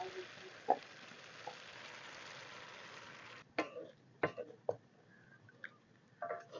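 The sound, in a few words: coconut, garlic and cumin blend poured into pan with fish, frying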